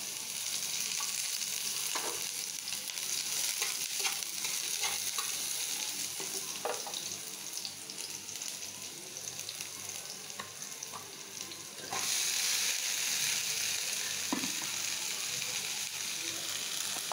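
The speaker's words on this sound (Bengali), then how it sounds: "তো এখানে আমি ঢেঁড়স ভাজিটা বসায় দিলাম।" Okra (ladies' finger) frying in a pan gives a steady broadband sizzle with scattered small pops and stirring clicks, a little louder after midway, with no voices.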